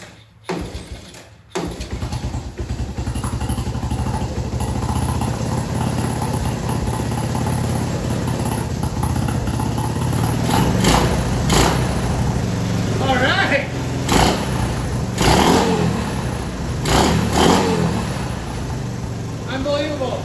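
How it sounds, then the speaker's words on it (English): A 1984 Honda 125M three-wheeler that had sat outside for years, its small engine starting after a cranking sputter, then idling steadily close by with several revs and voices talking over it. "Pull the choke in, turn the key on."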